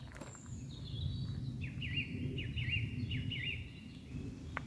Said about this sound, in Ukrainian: Як гарно прокидатися вранці в такому лісі, де співають пташки.